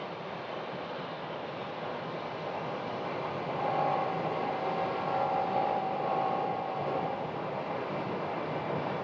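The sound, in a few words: airliners departing Phoenix Sky Harbor airport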